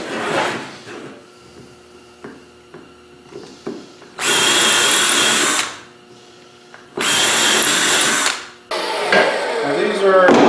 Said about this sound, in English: come from the bottom side, and go ahead and countersink it.